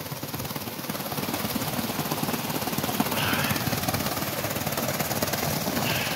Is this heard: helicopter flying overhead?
yes